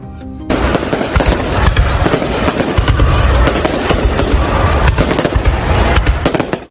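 A dense, continuous barrage of fireworks crackling and booming, loud and close, with rapid overlapping bursts throughout.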